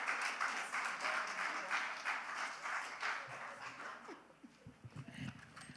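A youth event audience applauds as a senior advisor is called to the stage. The clapping is moderately loud at first, then fades and thins out, leaving scattered claps and faint voices near the end.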